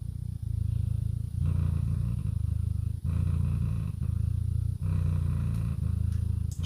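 A cat purrs loudly and close up, a steady low rumbling drone that runs almost unbroken through the whole stretch, with only a few brief pauses between breaths.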